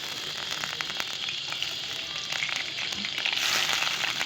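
Chicken fries in plenty of hot oil for a village-style curry, giving a continuous bright crackle with faint clicks from stirring, growing a little louder toward the end.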